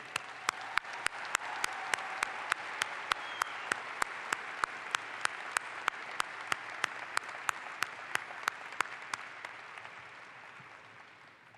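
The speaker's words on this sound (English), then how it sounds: "let's give him and Ms. Case a round of applause for their efforts in helping build the foundation of what our university has become today" Sustained applause from a large crowd at a university spring commencement, a broad, even roar of clapping that goes on for about eleven seconds and slowly fades, with sharp regular clicks running through it.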